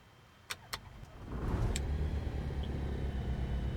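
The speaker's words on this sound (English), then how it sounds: "Brakes are on, throttle a little bit up, choke on, and let's try to start our engine." A light aircraft engine starts with the choke on: a few sharp clicks, then a low rumble catches and settles into a steady drone close by.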